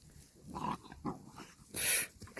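A cane corso puppy named Atari growls and grumbles in short bursts while play fighting, with a louder, sharper snarl near the end, close up.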